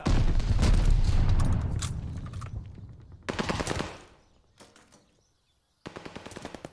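Burst of heavy automatic gunfire and explosive booms from a strafing run killstreak in Call of Duty Vanguard, loud and dense at first, then a second shorter volley, a lull, and a final rattling burst.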